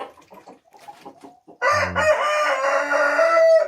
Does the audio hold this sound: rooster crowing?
yes